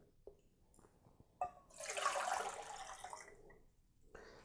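Water poured from a height into a FireMaple X3 camping cook pot, a broad splashing pour that rises, holds for about two seconds and then tapers off, fairly quiet and alone apart from a few light handling knocks.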